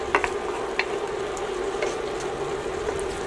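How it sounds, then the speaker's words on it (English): Shrimp for egg rolls being stirred and flipped in a frying pan: a continuous close sizzle with a few sharp utensil scrapes and clicks near the start, no talking. "Now I'm gonna mix my shrimp and turn them over to make sure that each side is getting cooked evenly."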